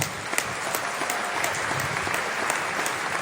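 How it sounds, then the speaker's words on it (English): Loud, sustained audience applause at a fundraising event in Cochrane, Alberta, a dense unbroken roar of many clapping hands with a few sharper claps standing out. "give him a round of applause"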